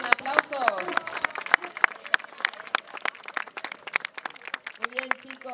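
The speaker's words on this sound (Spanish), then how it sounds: "Muy bien, aplausos." An audience claps at a Newfoundland dog water-rescue demonstration in Caspe: scattered, uneven applause with voices talking over it.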